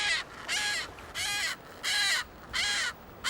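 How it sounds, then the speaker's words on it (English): Striated caracara calling on a beach in the Falkland Islands, a series of five harsh, drawn-out squawks in steady rhythm, loud and close with brief pauses between. "A welcoming party on the beach with the chicks of this bird. A striated caracara."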